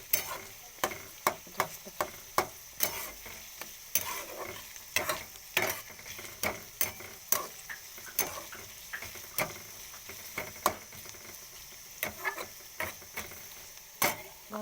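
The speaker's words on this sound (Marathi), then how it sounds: "त्यामुळे चांगला कांदा भाजून घ्यायचा. भाजायला लागला कांदा." Onion frying in a little oil in a pan over medium gas, a steady sizzle punctuated by regular sharp scrapes and taps of a spatula stirring, close up; one brief spoken word.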